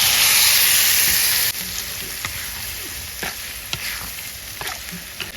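Spices temper in hot oil in a village kitchen, a loud sizzle for the first second and a half, then a quieter steady frying hiss broken by occasional clicks of stirring.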